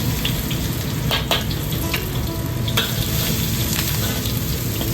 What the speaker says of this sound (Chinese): 油热后下蒜米炒香